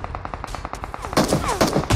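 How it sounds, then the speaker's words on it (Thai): Automatic gunfire in the mobile game PUBG Mobile rattles out in rapid, continuous bursts that grow louder and denser midway through, loud and up front. "ขอลองปืนหน่อย"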